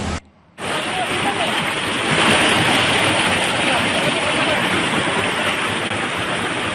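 Strong floodwater current surging through a flooded area of West Bandung, a loud continuous rushing roar of water that swells after a brief drop at the start.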